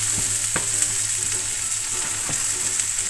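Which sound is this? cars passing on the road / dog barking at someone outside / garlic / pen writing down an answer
garlic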